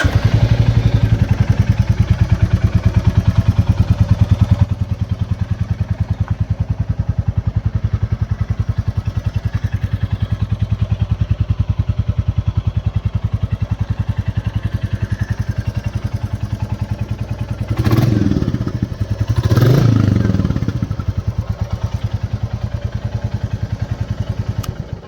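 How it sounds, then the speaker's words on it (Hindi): A stock exhaust on a 2023 Royal Enfield Classic 350 Reborn, BS6, idles steadily and loudly with a low, even thump throughout, with two brief blips of revving near the end. "तो ऐसा कुछ था इसका स्टॉक एग्जॉस्ट साउंड"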